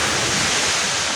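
Floodwater rushes after heavy rain where a blocked channel makes it pool, a loud, dense, unbroken roar of flowing water filling the whole moment with no voices.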